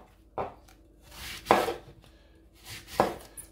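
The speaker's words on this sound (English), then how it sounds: "First, I'll slice them down like this." A knife slicing through fresh apples with the skin left on, three crisp separate chops on a cutting board, close and clear with quiet gaps between strokes.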